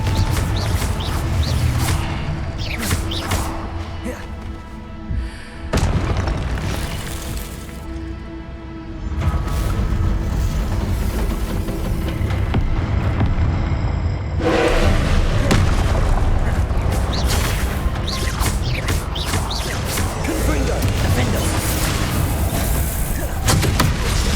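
In a Hogwarts wizarding video game, Confringo explosion spells go off as repeated loud booms and crackling blasts with whooshes between them, forming a dense, continuous barrage with a few brief lulls.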